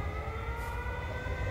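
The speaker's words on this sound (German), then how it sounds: "Man hört zwar die ganze Zeit die Sirene" A continuous wailing siren in the video game Everybody's Gone to the Rapture holds a steady pitch over a low rumbling background, fairly faint and unbroken throughout.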